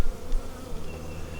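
Honey bees swarm around an opened hive in a bee yard, a dense, loud buzzing drone close to the ear that keeps going without a break, with no talking over it.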